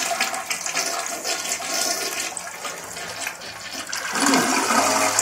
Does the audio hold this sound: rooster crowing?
no